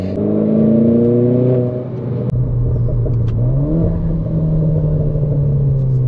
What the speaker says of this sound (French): Quand tu rétrogrades, t'entends le turbo et les petits pops.